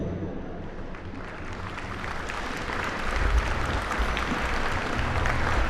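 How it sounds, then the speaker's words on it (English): A large crowd at a 4-H dairy cattle showmanship competition gives sustained, dense applause for the competitors. The clapping is loud and steady throughout and swells slightly toward the end. "please give them a warm round of applause on the exceptional job that they did"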